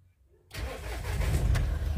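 A Mahindra Bolero BS6 diesel engine cranks and fires after a short quiet moment, then settles into a loud, rough idle close by, with its DEF sensor couplers unplugged.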